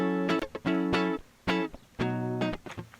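Unprocessed clean electric guitar played direct, short strummed chords in a clipped rhythmic pattern with brief gaps between stabs, dry and fairly quiet, no talking.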